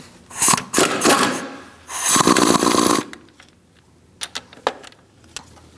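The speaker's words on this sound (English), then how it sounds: "Now we're going to remove our ground strap just on the top using a 13mm socket." A ratchet socket wrench fitted with a 13mm socket works loose the ground strap nut on a 2000-2006 Mini Cooper 1.6L, sounding as bursts of raspy clicking ratchet strokes followed by a few sharp light metallic clinks, close up and without speech.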